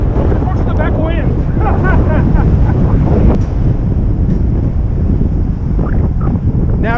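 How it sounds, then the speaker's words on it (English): Strong wind buffets the microphone on a riverside bike path, a loud continuous roar with rushing gusts, while a voice talks faintly underneath. "get out of the wind a little bit"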